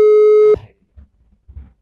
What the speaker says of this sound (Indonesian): Oke, kita coba telepon Petrus kedua.